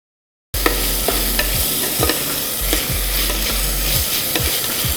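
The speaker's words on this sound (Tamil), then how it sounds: "அந்த நல்ல வாசனை வர நல்லா வதக்கணும்" Ingredients for spicy biryani, including green chillies, sizzling and being stirred in a pan, a loud continuous frying hiss broken by regular scraping strokes, close and with no talk.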